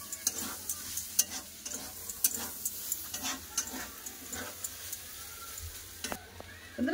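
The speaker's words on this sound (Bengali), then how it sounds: "লঙ্কা গুঁড়ো দিয়ে দিলাম, দিয়ে একটু নেড়ে নামিয়ে নেবো" Leafy greens frying with onion and chili powder in a pan, stirred now and then, a soft steady sizzle broken by faint scraping and ticking stir strokes, close by and quiet with no talk.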